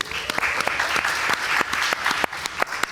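A crowd at a wellness industry panel applauds continuously, with individual sharp claps standing out from the steady clapping.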